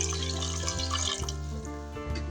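Water pours and splashes into a metal pressure cooker of lentils for beef nihari, a continuous trickling with faint clinks over a low steady hum.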